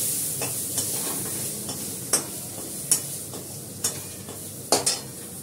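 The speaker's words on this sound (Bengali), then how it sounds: "এর মধ্যে দিলাম কাঁচা লঙ্কা" Green chillies fry in a pan with a steady soft sizzle, broken by several sharp scrapes and clinks as a spoon stirs them.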